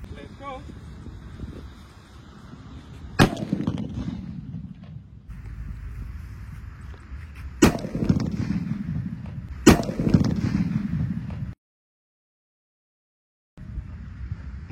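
A large paper-wrapped firecracker set off outdoors during Ramadan, with three sharp, loud blasts a few seconds apart, each followed by rumbling echo and crackle, then a brief silence.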